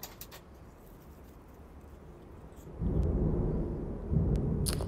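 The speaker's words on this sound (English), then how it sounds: "You can really hear the thunder here now." Thunder from a storm builds into a low, sustained rumble about halfway through, swelling again near the end, faint and distant with no talking.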